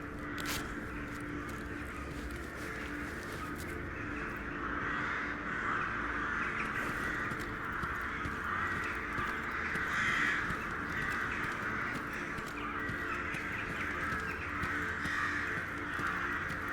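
Crows caw repeatedly at a moderate distance in the Stalker GAMMA game world, harsh calls scattered over a steady ambient outdoor background.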